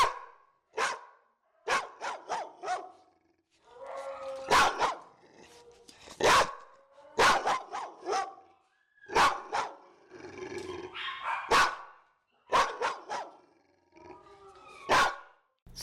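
A yellow dog in a kennel barking in loud, deep, repeated bursts, often two or three barks at a time with growly rumbles between, continuing steadily.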